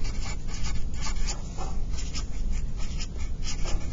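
Pen scratching across a flash card in quick, continuous strokes, close and fairly loud, with short pauses between bursts of writing.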